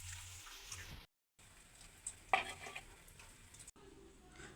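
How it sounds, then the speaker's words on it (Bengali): Fish frying in hot oil in a pan, heard as a faint, steady sizzle with soft stirring and scraping. A brief silent gap breaks it, and a few sharper clinks of utensils on the pan follow. "মাছ রান্না করতেছি, মাছ ভাজতেছি।"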